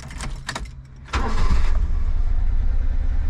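A Honda Acty kei van's engine cranks with a few quick starter whirs, then catches and settles into a steady, close, rumbling idle.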